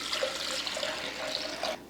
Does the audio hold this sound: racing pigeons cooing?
no